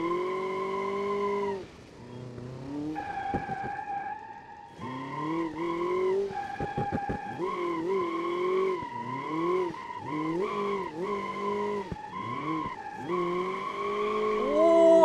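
BMW M5 drifting in the BeamNG driving game, with sustained, wavering tire squeal over engine revs that rise and fall through transitions. The sound is loud and continuous for about fifteen seconds, with no talking.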